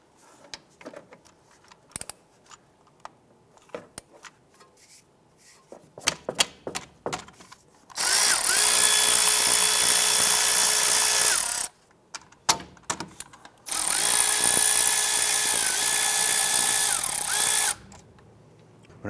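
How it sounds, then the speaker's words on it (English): Power tool, likely an impact driver or drill, removing 12mm bolts on the back side of a 2001-2005 Honda Civic during CV axle work: two long, loud sustained whirring bursts of about four seconds each, preceded by scattered clicks and clanks of handling. "I'm gonna go ahead and remove these bolts on the back side."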